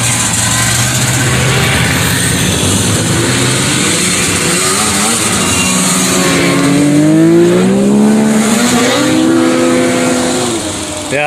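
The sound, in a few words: vintage snowmobiles driving past at a show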